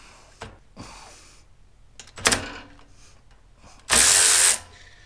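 Snap-on ratchet tightening a fastener to 55 foot-pounds: a few scattered ratchet clicks and clunks, then one loud, dense burst of motor whir lasting about half a second, close by.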